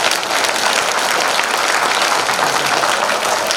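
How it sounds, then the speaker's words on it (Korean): Audience applause at a Korean book launch event, dense and even clapping from a crowd in an indoor hall, sustained without a break and with no talk over it. "여러분 싹수 보인 유 작가한테 박수 한번 주십시오."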